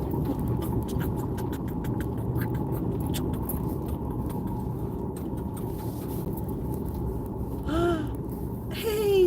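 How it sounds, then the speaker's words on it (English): A car lurching along in four-wheel drive on rough off-road ground, its engine giving a steady low rumble throughout with scattered knocks and clatter from the terrain, plus a brief louder creak near the end. "We're gonna try to four-wheel it"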